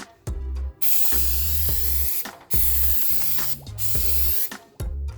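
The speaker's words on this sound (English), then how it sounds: "And then we'll just spray over it with a sealant to keep leaks from coming in." Repeated bursts of loud spraying hiss as sealant coating is sprayed, each lasting about a second, separated by short pauses with clicks and mechanical hum.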